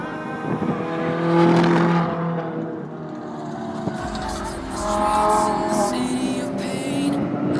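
Lamborghini Gallardo LP 570-4 Superleggera engine pulling hard on a Las Vegas racetrack, a loud, steady, close-up roar rising and swelling as the car accelerates out of a tight corner, with tire noise over the top.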